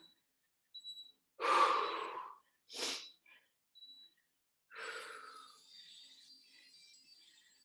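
Heavy breathing after an adult gym class exercise: a few loud, close exhalations and gasping breaths with pauses between, ending in a longer, softer sigh-like breath.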